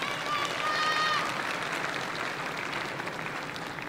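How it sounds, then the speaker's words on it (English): Applause from the audience at a secondary school graduation ceremony, a steady wash of clapping that holds fairly even and slowly thins out toward the end. "Please, another round of applause"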